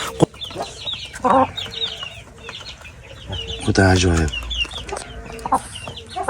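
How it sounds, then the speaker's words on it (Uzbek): A young Korean-breed rooster clucks close by in several bursts, one louder drawn-out call in the middle, while a person speaks briefly. "Xo'roz."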